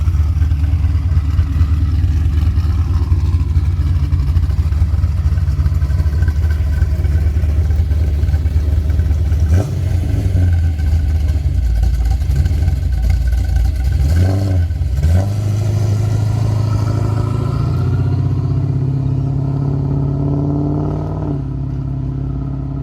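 A 1970 Holden HG GTS Monaro's 350 V8 rumbles with a deep, throaty exhaust burble heard from the rear, revving up a couple of times before settling back to a low, steady idle.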